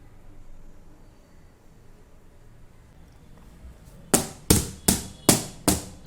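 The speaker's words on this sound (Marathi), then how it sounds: "टॅप करून घ्यायची आहे चांगली, म्हणजे कुठे एअर गॅप राहता कामा नये त्यामध्ये." A plastic tub of freshly made chocolate ice cream being tapped down firmly, five sharp, loud knocks in steady rhythm after a few seconds of quiet room noise.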